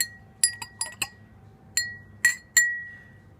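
A spoon stirs blue food coloring in a glass, clinking against the sides in several sharp, ringing taps spaced irregularly, close and clear with little else around.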